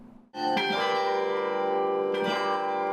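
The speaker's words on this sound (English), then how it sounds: "The bells in Marquette Hall are a staple on campus." Loud, resonant carillon bells in Marquette Hall ring out, two struck notes layered into a sustained, ringing chord that hangs in the air.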